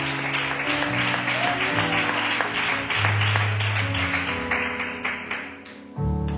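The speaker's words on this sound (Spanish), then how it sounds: "Dale un fuerte aplauso para Dios." A church congregation breaks into applause during a sermon, a broad wash of clapping with organ or keyboard chords sustained underneath, fading toward the end before a low note returns.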